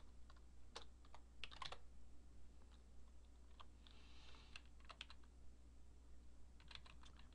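Someone is typing on a computer keyboard, with irregular bursts of soft, close key clicks spread through the stretch. The room behind them is quiet, and nobody speaks.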